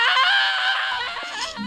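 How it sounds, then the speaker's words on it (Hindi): A sustained, high, wavering scream serves as a sound effect in a Hindi horror story. It is loud and close, lasts about a second, then breaks into a fainter, ragged tail. "यह सब देख हिमांशु की चीख निकल गई"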